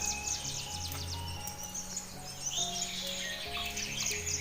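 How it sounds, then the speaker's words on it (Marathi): Birds chirp outdoors near a house on a drizzly rainy day, bright repeated tweets and whistles over a soft steady background hum, with no talking. "पक्ष्यांचा आवाज घ्या."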